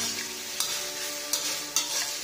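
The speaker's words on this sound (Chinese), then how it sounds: "给它炒香" Chicken feet and ginger slices are stir-fried in a wok, a loud continuous sizzle with a few sharp scraping strokes of the spatula, and no one speaking.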